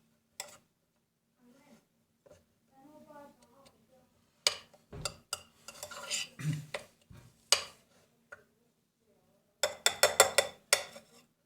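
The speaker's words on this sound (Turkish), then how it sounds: "karıştırıyoruz güzel bir şekilde" Boiled egg white stirred into a baby food mixture in a bowl, giving close, irregular clinks and scrapes of a spoon in bursts, with soft talking early on.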